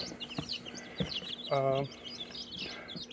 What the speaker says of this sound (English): These are silver pheasants.